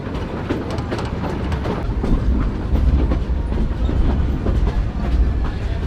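A train rolling steadily along the rails, with a continuous rumble and repeated clickety-clack from the wheels, loud and close throughout.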